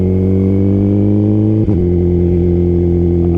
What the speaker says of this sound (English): The BROCKS alien head 2 full exhaust.